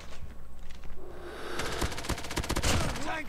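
The QXR submachine gun fires in Call of Duty Mobile in several rapid automatic bursts. Close, sharp reports crackle on top of a low game ambience, and no one speaks.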